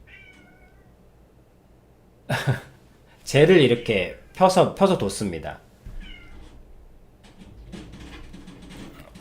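A cat meows several times close by, in loud drawn-out cries of varying pitch, while someone talks over and between them indoors.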